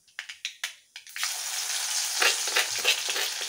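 Onions and chillies dropped into hot oil in a pan, a few quick taps followed by a sudden loud, steady sizzle that carries on close up.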